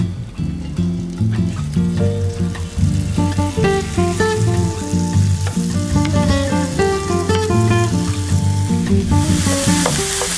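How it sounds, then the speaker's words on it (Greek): Turkey giblets, minced meat and bacon sizzle and fry in oil in a nonstick pot, a loud, steady crackle with stirring noises throughout. "θα ρίξω μέσα τα εντόστια της γαλοπούλας, το κιμά και το μπέικον. Θα τα ροδίσω για λίγο"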